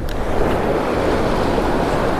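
Strong wind buffeting the microphone over pounding surf on a beach on California's Central Coast, a loud unbroken rumble and roar with no one speaking.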